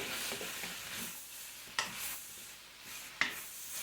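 Cabbage frying in a pan and being stirred, a steady hiss and sizzle with two sharp scraping clicks of the utensil against the pan, no talk.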